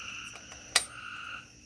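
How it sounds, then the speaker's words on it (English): Frogs croak outdoors in a steady, distant chorus of thin, sustained calls, broken by a single sharp click midway. "Can y'all hear the frogs?"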